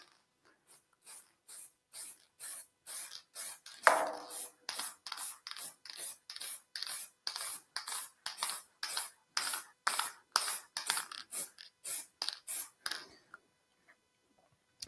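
Ebonizing lacquer is sprayed onto wood in a long series of short, sharp hissing bursts, close and evenly paced, with brief gaps between each pass.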